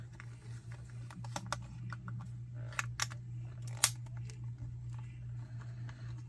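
Plastic shell of an N64 controller being pried open with a Phillips screwdriver nearby, giving quiet scattered clicks and sharp little snaps over a low steady hum, close up and without speech.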